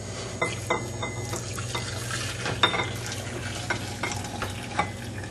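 A utensil stirs through a liquid mixture with repeated scraping clinks against a bowl, over a steady low hum, close and moderately loud.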